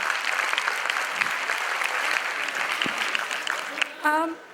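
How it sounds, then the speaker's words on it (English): Audience at a college debate competition breaks into sustained, dense applause that holds steady throughout, with a short voice briefly rising over the clapping near the end. "Can I hear the claps now?"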